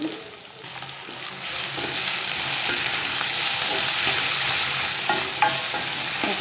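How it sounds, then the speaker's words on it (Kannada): Onions sizzle steadily in a hot pan while being stirred, a constant close frying hiss with occasional scraping of the spoon, and no talking. "ಇದನ್ನು ಚೆನ್ನಾಗಿ ಫ್ರೈ ಮಾಡ್ಕೋಬೇಕ್ರಿ. ಸ್ವಲ್ಪ ಕೆಂಪಗಾಗಬೇಕು ಈರುಳ್ಳಿ."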